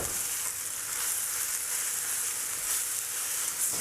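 Steady, bright sizzling of mushrooms frying in a pan for bruschetta, a continuous crackling hiss with no voices, even in loudness throughout.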